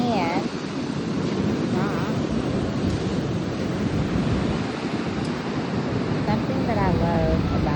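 Surf breaks and washes continuously on the black sand of Black Beach in Olympic National Park, a broad roaring rush mixed with wind buffeting the microphone while a voice speaks over it.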